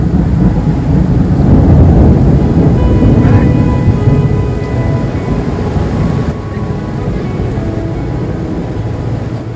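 Thunder rolls in a long, loud rumble over steady rain during a tropical storm on St. John in the US Virgin Islands, easing slightly toward the end.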